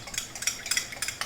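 Quick, repeated scraping and clinking of a utensil stirring a hot glaze for Spam musubi in a pan, a rhythmic series of short strokes up close.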